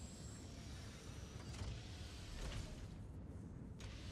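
Gun turret on a spaceship in the game Star Citizen moving up and down, a faint, steady mechanical whir with a low hum, continuous and even with slight surges in the middle.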